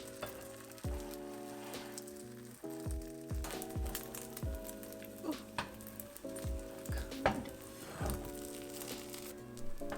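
A tornado omelet egg frying in a carbon steel skillet, a steady soft sizzle with scraping and stirring touches, heard close under background music with no talking.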